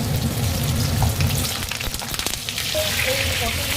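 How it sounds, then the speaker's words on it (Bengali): Pointed gourd (potol) pieces fry in hot oil seasoned with a pinch of turmeric, giving a dense, continuous close-up sizzle with crackling bursts and stirring scrapes, loud and steady throughout. "এই পটলগুলো ভেজে নিই ভালো করে।"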